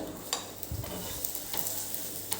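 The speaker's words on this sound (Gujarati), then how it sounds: "હવે આપણે તેલ મૂકીને એને બે બાજુ શેકી લઈશું" Paneer paratha fries in oil on a hot pan, giving a steady close sizzle broken by soft scraping and turning sounds, with no talking.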